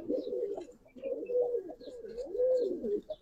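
A pair of pigeons coos close by in soft, repeated rolling phrases, each low murmuring call swelling and fading in a steady rhythm, with faint higher chirps scattered in the background.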